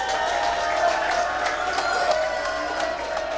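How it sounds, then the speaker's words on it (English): A crowd at a National WhirlyBall Tournament game claps, whoops and hollers in a steady, dense wash of cheering with overlapping voices throughout. "Listen to the claps, the hooping and hollering in the background."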